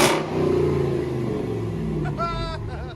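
A Ram 2500 Power Wagon's 6.4L HEMI V8 opens with a loud rev that settles into a deep idle rumble, with a faint whistle-like squeal near the end.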